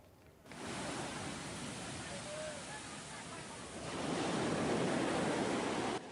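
Ocean surf at Kuta Beach in Badung, Bali: a steady, broad wash of breaking waves that swells louder toward the end, with faint voices of the crowd mixed into the roar.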